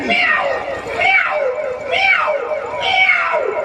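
At a Ramlila comedy stage show, a performer mimics a cat, producing three long, rising-and-falling meows in a steady rhythm, close and loud, with no other voices over them.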